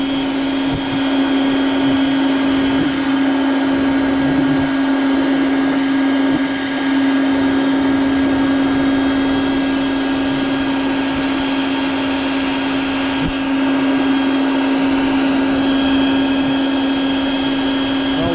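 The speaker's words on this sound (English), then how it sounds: "That's why I just leave the vacuum there and let it do its work." A vacuum cleaner running continuously at close range while removing a hornet's nest, a loud steady motor whine with a constant hum, no voices.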